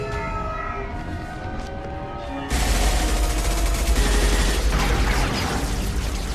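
Gunfire in Mass Effect breaks out loudly after a few seconds of wailing, tonal alarm-like sound, then continues as a dense, heavy barrage.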